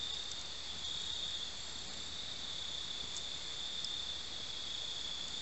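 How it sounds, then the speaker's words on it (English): Crickets chirp at night around a camp in a dry creek bed, a steady high-pitched trill that runs unbroken at moderate distance, with a few faint clicks and no talking. "right now, it ain't nothing but crickets"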